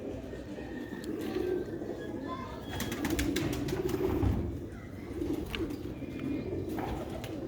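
Red Sialkoti Sheikh pigeons coo steadily in soft, low, rolling calls at close range, with faint chirps and background chatter mixed in.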